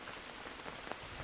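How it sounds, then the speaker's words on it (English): Steady rain falls in the survival video game Green Hell, a dense, even hiss of drops pattering on surfaces with no talk over it. "So we did get the rain."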